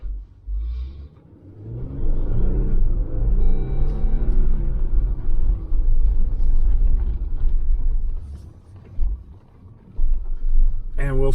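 A 4x4 engine in four-low gear rumbles at the start of a moderate trail climb near Bill Moore Lake in Empire, Colorado. It is a low steady drone that swells and stays loud, with someone talking over it.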